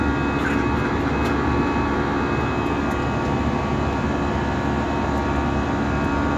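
Steady, loud broadband roar of a passenger airplane cabin in flight over the sea, a continuous engine and airflow drone with no breaks and no voices.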